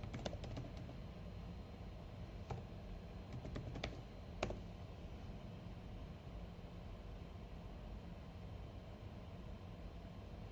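Computer keyboard typing, a quick cluster of soft close key taps in the first few seconds, then a steady quiet background with no further keystrokes.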